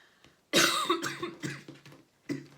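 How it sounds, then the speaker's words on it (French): A person coughs up close, starting with one sharp burst, then a run of rougher coughs separated by short breaths and a final cough after a brief pause. "je tousse forcément à ce moment-là"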